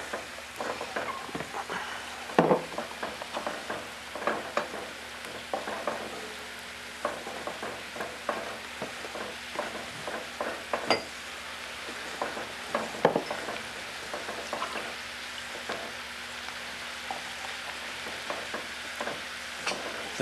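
Chili with cumin cooking in a pot, stirred by a spoon that scrapes and knocks at an irregular rhythm over a steady low sizzle, close and fairly quiet, with no talking.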